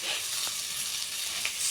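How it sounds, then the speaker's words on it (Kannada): Ground masala paste for a chickpea and pea sambar hits hot oil in a pan, giving a steady, bright, close sizzle throughout with a faint stir or two underneath. "ಎಣ್ಣೆ ಕಾದಾದ್ಮೇಲೆ ಈ ಮಿಕ್ಸಿ ಜಾರಲ್ಲಿರೋದನ್ನೆಲ್ಲ ಬಾಣಲಿಗೆ ಹಾಕ್ಕೊಬೇಕು"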